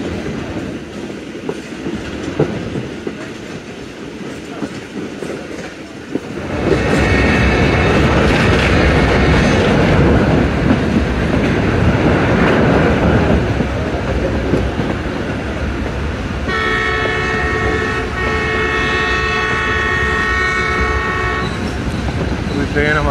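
The Khyber Mail passenger train rolls from Peshawar toward Rawalpindi, passing near Bala Hisar fort and over the GT Road at night. A loud, close rumble of wheels swells after a quieter start, and horn blasts sound near the end.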